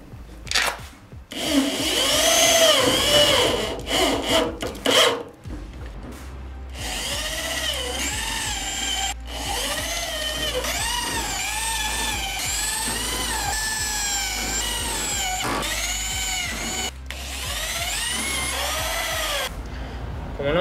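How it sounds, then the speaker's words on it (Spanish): Power drill driving screws into a sheet-metal rocker panel on a Ford Falcon being readied for welding, several whirring bursts of varying pitch as screws bite in, close and loud, with short pauses between. "voy a empezar a atornillar todo y ya vamos a dejar todo listo para soldar"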